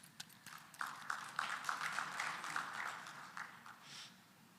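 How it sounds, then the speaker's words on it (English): Audience applause at the 11th RSOG Annual Scientific Conference 2025, a fairly faint, scattered patter of clapping from a modest crowd that swells briefly, then tapers off. "Let's give her a round of applause."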